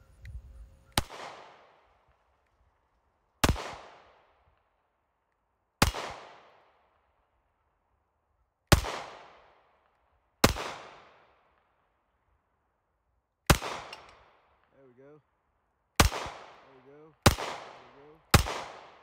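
Handgun shots ring out on a steel target, fired with a Crimson Trace laser sight: about ten loud, sharp reports spaced a second or two apart, each with a short ringing decay, and a faint murmur of voices between two shots.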